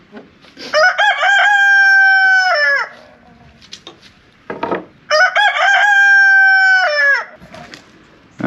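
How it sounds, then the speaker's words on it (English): Two long, loud rooster crows a few seconds apart, each a drawn-out harmonic call, with quieter clucking and shuffling between them. "They're having a crow off."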